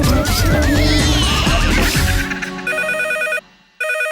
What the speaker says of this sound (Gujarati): ફોન આવ્યો કાકા. ઉપાડલા.